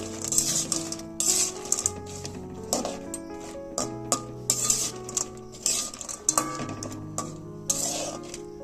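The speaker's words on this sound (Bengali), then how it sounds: "তো এবার আমি পিঠাগুলো দিয়ে দিচ্ছি, দিয়ে একটু নেড়ে ছেড়ে নেব।" Semolina pitha being stirred into hot sugar syrup in a pot: clinking metal spoon taps and scrapes against the pot in irregular bursts, close-up, with a faint hum underneath and no speech.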